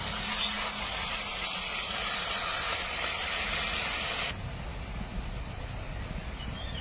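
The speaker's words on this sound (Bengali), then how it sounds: "এবার ঝোলটা সুন্দর ফুটে গেছে" Tomato gravy for a koi fish curry simmering in a pan, a steady low bubbling hiss that runs throughout, fairly quiet and without talk.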